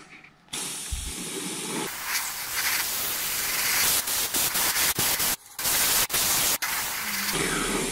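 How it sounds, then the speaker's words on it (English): An airbrush blows a continuous loud hiss of air onto a freshly painted Kyosho Pegasus RC car body to dry it, cutting off briefly several times in short bursts before resuming, with no voices. "So now I'm just blowing air at it to make it dry a bit better."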